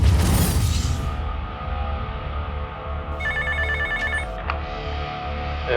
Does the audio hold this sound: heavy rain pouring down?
no